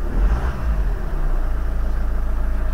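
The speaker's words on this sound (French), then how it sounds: "La voiture, elle tourne bien." A 2007 Hyundai Tucson engine idles nearby with a steady low pulsing rumble, settling into an even rhythmic thrum after a brief rougher start.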